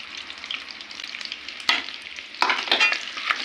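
Cumin, garlic and ginger frying in a pan for dal makhani, a steady close sizzle with sharper crackling bursts as the pan is stirred, no voices.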